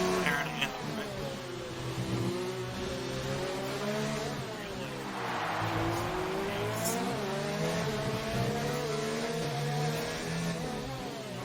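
Formula 1 race cars at the Singapore Grand Prix in F1 2019 whine loudly and continuously, their engine pitch rising and falling through gear changes, while a commentator talks over the sound.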